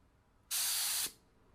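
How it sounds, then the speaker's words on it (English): A paint spray gun fires a single short burst onto a Toyota Corolla car bumper being refinished at home, a loud, steady hiss lasting about half a second that cuts off sharply and then fades. "you hit it real quick, and you see it's just a spray"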